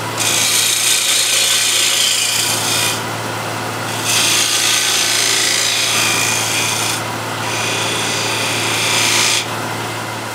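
10 mm spindle gouge cutting beads into wood spinning on a lathe, a loud rasping scrape in several bursts over a steady motor hum, with short quieter gaps between cuts.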